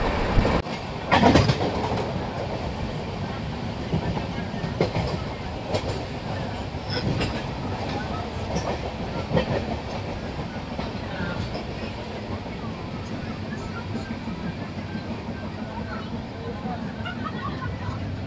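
The Visakhapatnam–Kirandul passenger train rolls at speed, around 130 km/h, with a continuous rumble and rhythmic wheel clatter close by, a few sharper knocks near the start, and faint voices in the background.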